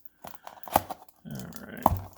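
A knife cutting and tearing packing tape to open a webcam box: short scratchy rips and crinkles of cardboard and tape, close up, in two bursts with a sharp snap in each.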